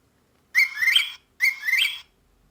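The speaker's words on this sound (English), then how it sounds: "a whippoorwill." Two whistled whippoorwill calls played from an electronic children's sound book, each a clear rising, rolling phrase about half a second apart, loud and alone against silence.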